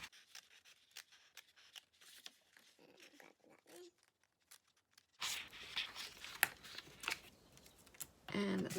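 Scissors snip through stamped paper card along an outline, giving a run of quiet, quick crisp cuts that turn into louder rustling and cutting scrapes partway through.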